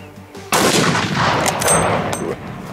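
A .416 big-game rifle fires a single loud, sharp shot outdoors, followed by a long rolling echo that fades over about two seconds.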